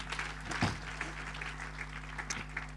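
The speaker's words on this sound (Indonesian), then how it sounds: "Beri tepuk tangan dulu betul." Faint, scattered clapping from a church congregation during a sermon, light and somewhat distant over a low steady hum.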